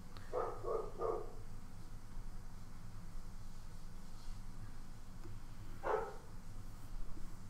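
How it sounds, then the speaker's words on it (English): A dog barks indoors in two bursts, a quick run of three or four barks near the start and a single bark later, fairly faint against quiet room hiss. "you can listen to my dog bark"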